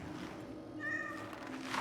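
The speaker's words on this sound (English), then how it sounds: "Kitty, kitty. There you are. This is no place for a cat." A cat meows once, clear and mid-length, in the video game Cronos, heard close over a low ambient game background with no talking.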